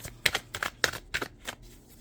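Tarot cards are riffled and drawn from a deck in a quick series of crisp flicks and snaps, close by and alone.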